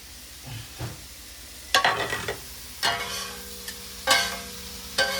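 Leeks, egg and onion frying together for kottu roti, with a steady sizzle broken by several loud bursts of stirring and metal scraping against the pan.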